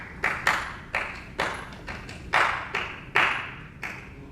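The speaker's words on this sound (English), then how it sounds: "rhythmic clapping" Hand clapping in the style of spirituals sung after Sunday church: about eight sharp, close claps in a loose rhythm with short gaps between them, each with a slight ring, and no other sound around them.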